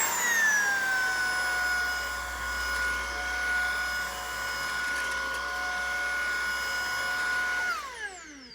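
A Tineco A10 Hero cordless stick vacuum runs on its max setting with a steady high motor whine and airflow hum. It holds constant for several seconds, then spins down at the end.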